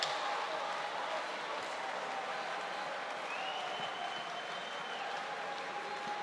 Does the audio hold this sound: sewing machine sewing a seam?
no